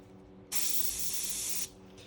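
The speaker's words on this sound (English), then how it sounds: "I'm just going to start spraying some of this white on here." White paint from an airbrush or spray can hissing onto a 1/32 scale model of a Luftwaffe service cart and fuel drum trailer. One steady, close, loud spray burst of about a second, set against a quiet background hum.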